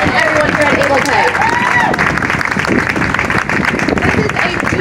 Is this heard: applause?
yes